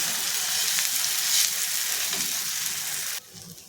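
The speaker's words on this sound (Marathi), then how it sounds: "ह्याच्यामध्ये आपल्याला हे बॅटर टाकून घ्यायचं आणि हलक्या हाताने ते सर्व आपण पसरून घ्यायचं" Wheat flour batter for a savoury dhirde pancake sizzles steadily as it is spread across a hot oiled pan, a loud continuous frying hiss that drops off sharply near the end.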